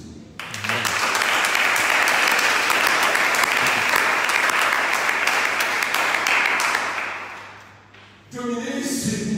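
A church congregation claps and applauds steadily at a worship service, a dense sustained wash of hands that fades briefly near the end before surging again.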